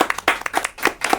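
Audience clapping hands at an indoor music-shop talk event, a short burst of quick, close, uneven claps with no voices over it.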